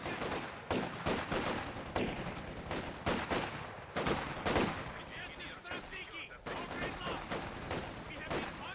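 Rapid bursts of gunfire in Company of Heroes 2, focused on a squad of German Volksgrenadiers, crackle in repeated clusters of shots alongside a faint talking voice.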